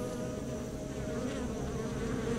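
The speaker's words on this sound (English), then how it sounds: "to see these bees flying all around" Giant honey bees swarm around their colony, producing a dense, steady buzzing drone that stays close and constant throughout, with no voices.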